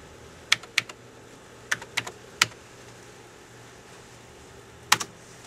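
Sparse keystrokes on a computer keyboard, a handful of sharp, close clicks in small clusters separated by quiet gaps.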